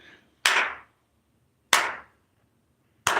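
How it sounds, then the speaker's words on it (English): A slow clap of three single, sharp hand claps spaced more than a second apart, each close and loud against near silence. "Slow clap."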